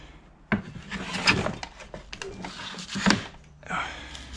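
Vintage Mathieson jack plane shaving a wooden board, with two or three rasping strokes, each rising from a sharp start, close and moderately loud, and a faint voice in the background.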